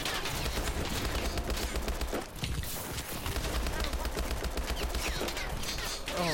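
Rapid, dense gunfire in an Advanced Warfare Exo Zombies video game match, continuous sustained bursts filling the mix with players talking over it.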